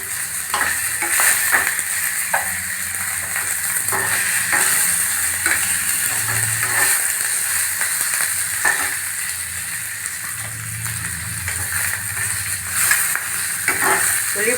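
Onions fry in a pan with a loud, steady hiss, and spoon scrapes and clicks of stirring come through at irregular moments.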